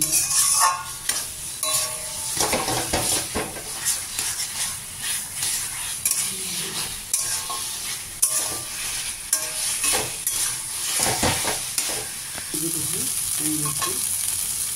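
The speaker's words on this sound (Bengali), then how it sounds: "জিরে গুঁড়ো দিয়ে মিশিয়ে নেব" Rohu fish heads with taro leaves and cumin powder cooking in a pan, stirred repeatedly with scraping strokes and occasional sharp utensil knocks over a constant close frying sizzle.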